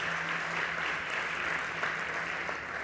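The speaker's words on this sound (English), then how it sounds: "Big applause for Vincent." An audience at a startup pitch competition claps steadily in a broad, even wash of applause that holds at constant loudness for the whole stretch. It sounds somewhat distant and reverberant in a large hall.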